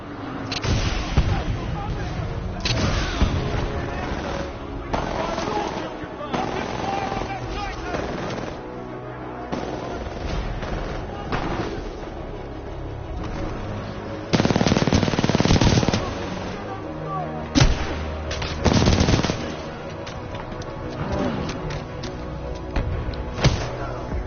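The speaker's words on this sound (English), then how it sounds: "Commencing supporting fire. Danger close." Supporting gunfire and artillery in the video game Titanfall 2: dense, loud, continuous machine-gun bursts and heavy booming blasts, with thicker barrages swelling partway through.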